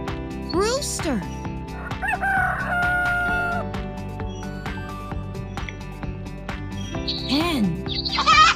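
A rooster crows in a farm setting, a clear rising-and-falling call near the start and a second crow toward the end, over steady background music with other animal sounds between.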